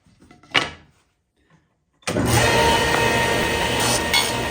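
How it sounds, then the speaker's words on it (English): Saw cutting roughly a quarter inch off a wooden board for a recycling and garbage pull-out cabinet: a brief knock, a pause, then a loud, steady, close cutting roar that runs to the end. "I need to cut off another maybe 1/4 inch into this board"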